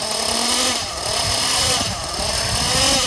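A nitro RC truggy engine buzzes steadily and loudly up close, with small throttle swells as it is revved to warm up.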